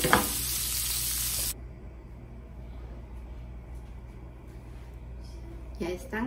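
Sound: sausages frying in a pan

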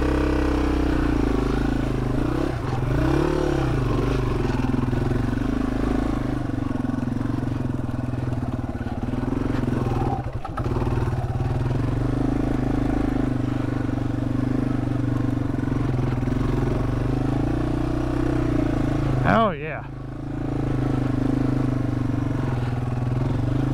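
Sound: Yamaha TW200 motorcycle with fat tire kit riding

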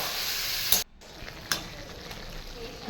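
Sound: sautéing (kosha) food in oil, frying sizzle

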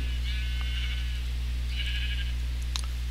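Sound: sheep bleating in the video game Minecraft

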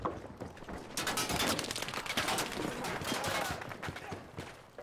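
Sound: gunshots in video game Battlefield 5

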